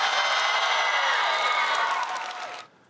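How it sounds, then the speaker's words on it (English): A small group of Bernie Sanders supporters applauds and cheers at Liberty, a dense wash of clapping and whoops that holds steady, then thins and cuts off near the end. "the applause you could hear on that tape, that came mostly from a very small group of Bernie Sanders supporters"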